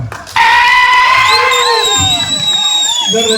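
A youth festival audience at a stage event roars into loud cheering and whooping all at once, sustained and close, with shrill whistles and shouts riding over the crowd.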